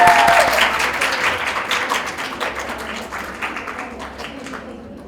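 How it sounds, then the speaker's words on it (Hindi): Applause rises in a hall for the first-prize winner of a student Urdu debating and speech competition, a dense patter of claps fading gradually over five seconds while a faint voice lingers at the start. "आपकी भरपूर तालियों में।"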